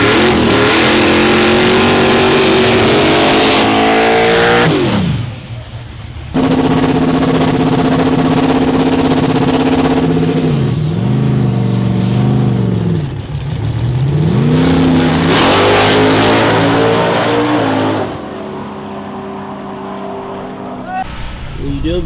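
A small block drag race car at a grudge racing shootout revs hard and launches, its loud engine climbing and dropping through repeated high-rpm pulls with brief gaps between them, with voices faintly underneath.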